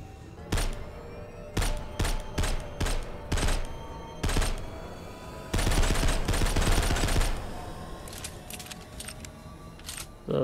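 Gunfire in the post-apocalyptic zombie shooter Abandoned World on a desert map: loud single shots and short clustered volleys with gaps between, ending in a sustained rapid burst.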